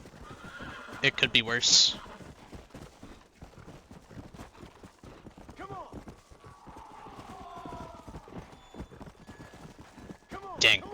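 A horse in Red Dead Redemption: Undead Nightmare gallops with a rapid, continuous clatter of hooves, whinnying loudly near the start and end, while someone talks over it.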